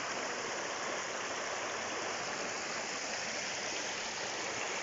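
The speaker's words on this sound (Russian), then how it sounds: "Вот такой шикарный ручей." A mountain stream rushes over rocks on a slope in Khakassia, a constant broadband roar of flowing water, steady and fairly close, with no voices.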